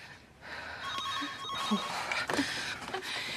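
A telephone rings in the background with steady electronic tones, fairly faint, under a muffled room ambience.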